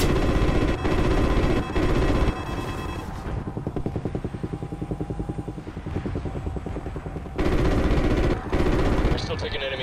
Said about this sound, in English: We're still taking enemy AA fire from behind the smokestacks.